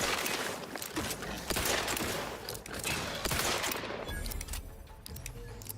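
Continuous gunfire in The Outer Worlds 2 rings out as loud, fast shots that blend into a dense barrage and keep going almost the whole time.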